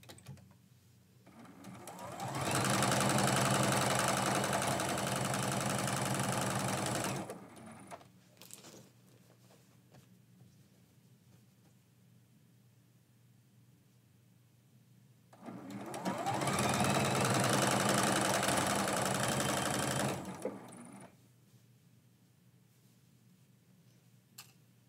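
Sewing machine stitching a quilt seam in two steady runs of about five seconds each, separated by a quiet pause, close and moderately loud with no talk.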